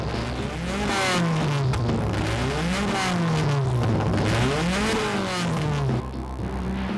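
Modified Subaru Impreza gymkhana car with a body widened by 100 mm and weight-shedding modifications, engine revving and rising and falling continuously, close and loud, with brief tire squeal and no talk.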